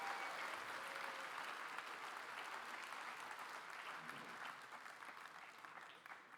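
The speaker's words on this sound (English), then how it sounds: "Give another big round of applause to Kahurangi" A crowd gives a round of applause after a performance at a Māori community anniversary show. The clapping is steady and sustained, heard at a distance and quite faint, and it thins slightly toward the end.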